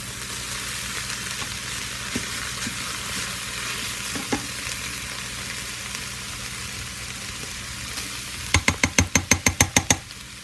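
Ground meat browns in a pan for crockpot chili, giving a steady close sizzle and frying hiss throughout, capped near the end by a quick run of sharp metallic scrapes or taps from stirring, with no talking.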